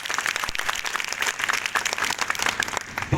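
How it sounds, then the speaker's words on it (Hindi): An audience at an achievers' ceremony and speech event claps together in loud, rippling applause that lasts throughout. "मैं चाहूँगा इन महान हस्तियों के सम्मान में दिल की गहराइयों से एक बार जोरदार तालियां हो जाएं"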